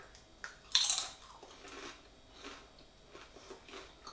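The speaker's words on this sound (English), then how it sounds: "I hope you heard that crunch," A crisp, close bite into golden homemade potato crisps makes a loud crunch, followed by quieter chewing crunches.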